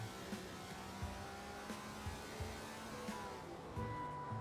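A Ferrari GTO race car brakes hard into a turn at the Pergusa circuit, its engine note steady and fairly quiet under ambient track noise, with faint tonal whine and no talk.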